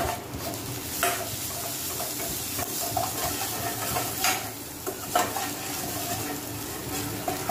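Ginger and slit green chillies fry in oil in a pan for Bengali biulir dal while being stirred, with close, lively sizzling broken by repeated scraping strokes of a spoon against the pan.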